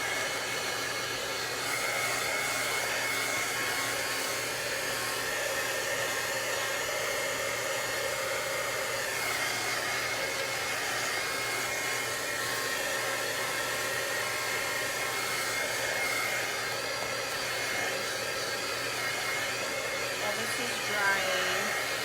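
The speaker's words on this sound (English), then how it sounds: "So I'm going to add a little bit of the blow dryer" Blow dryer running steadily to dry a layer of chalk paste, a continuous close airy whoosh with a constant pitch lasting over twenty seconds, no break and no voices.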